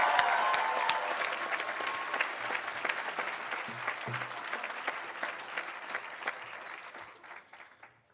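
A graduation ceremony crowd for the class of 2024 claps in sustained, dense applause that starts loud and gradually fades out toward the end, with no talking over it.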